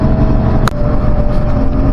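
A tractor approaching across a sandy field during soil preparation for maize, a steady loud low engine drone running throughout with a brief mechanical click near the middle.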